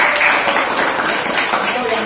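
A classroom of students claps together for a student group, brisk, dense clapping close by that fills the short moment, with a voice speaking over it.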